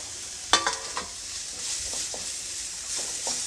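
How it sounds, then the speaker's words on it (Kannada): Potato filling with chopped coriander leaves being fried and stirred in a pan: a steady sizzle under a few sharp spoon scrapes and clacks early on, then softer, intermittent stirring taps. "ಇದನ್ನು ಚೆನ್ನಾಗಿ ಸ್ವಲ್ಪ ಫ್ರೈ ಮಾಡ್ಕೊಳ್ಳಿ ಇವಾಗ ನಾನು ಇದಕ್ಕೆ ಹೆಚ್ಚಿಟ್ಕೊಂಡಿರುವಂತಹ ಕೊತ್ತಂಬರಿ ಸೊಪ್ಪನ್ನು ಹಾಕ್ಕೊಳ್ತಾ ಇದ್ದೀನಿ"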